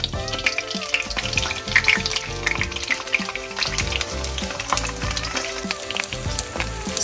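Eggplant slices fry for moussaka in hot oil, giving a steady, dense sizzle and crackle with scattered pops and occasional clinks of a utensil, close and continuous throughout.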